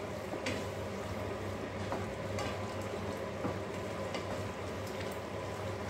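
Vegetables sizzle and fry in a pan while being stirred, a steady soft crackle with occasional scraping clicks of the spoon, fairly quiet and with no talk.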